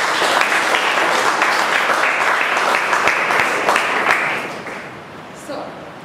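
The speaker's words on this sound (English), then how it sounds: "Give her a huge round of applause." Audience applause for a speaker at a Toastmasters meeting, steady dense clapping that fills the room for about four seconds, then thins and fades, with a few scattered claps and a voice at the tail.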